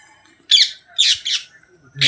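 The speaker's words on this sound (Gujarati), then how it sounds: "પોપટ આવી ગયા છે અહીંયા" Three harsh, raspy parrot squawks in quick succession, loud and close, with a fourth starting at the end.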